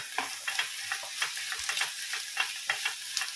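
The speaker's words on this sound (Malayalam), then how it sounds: "ഇനി നമുക്കിതിലേക്ക് ക്യാപ്സിക്കം അരിഞ്ഞത് ചേർത്ത് കൊടുക്കാം." Chopped capsicum stirred in a hot pan for Kerala capsicum thoran, a steady frying sizzle with repeated scraping strokes of a spoon every half second or so, close and alone with no talk.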